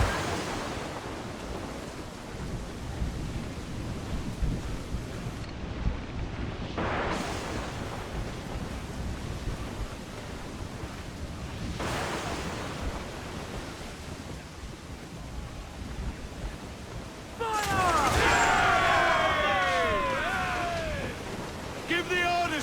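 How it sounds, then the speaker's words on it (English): Rough seas and a storm in Assassin's Creed 4 Black Flag: a steady roar of crashing waves and wind fills the whole stretch, swelling louder toward the end with creaking, squealing accents layered over the surf. "Dark skies and rough seas there."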